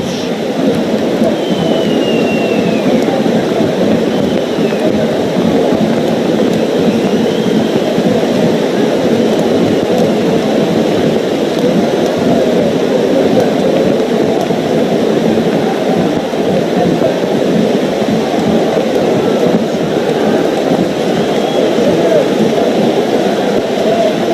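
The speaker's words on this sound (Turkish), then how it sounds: "Bardaktan boşalırcasına yağmurun ta kendisi şu anda Elmalı'da ve Er Meydanı'nda" Heavy downpour pouring steadily over an outdoor oil-wrestling arena at Elmalı, a dense continuous hiss and roar of rain with no pause, loud and close throughout.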